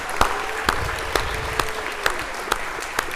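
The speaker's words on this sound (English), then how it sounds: "So give yourselves a round of applause for all of your hard work." Audience applause at a school division convocation, a steady wash of clapping under sharp, evenly spaced loud claps or knocks repeating about twice a second.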